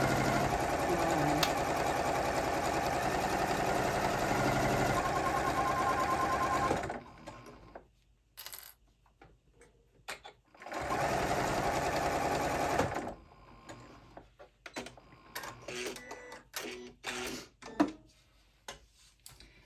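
A home sewing machine stitches a fabric tote bag in a steady, fast whirring run lasting several seconds, stops, then runs again briefly, followed by softer handling clicks and small taps.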